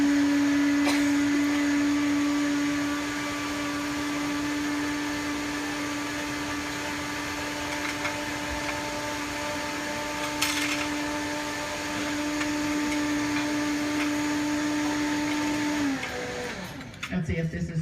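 A blender whirs on low, mixing cream with chocolate in a steady, loud, close hum that runs for about sixteen seconds before winding down, with people talking over it.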